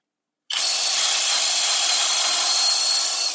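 A HOTO 12V brushless drill/driver at its top setting of 30 bores into wood, starting abruptly and holding a loud, steady high-pitched whir with grinding texture, close up and alone.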